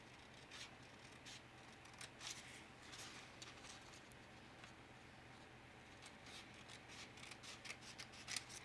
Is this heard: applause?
no